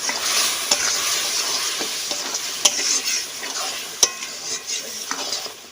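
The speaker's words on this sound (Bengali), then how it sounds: "মশলাগুলো কষানো হয়ে গেছে" Whole garlic cloves, cloves and black and white cardamom sizzle in hot oil for a village-style country chicken curry. A ladle scrapes and stirs them in a pot with occasional sharp clinks against the metal.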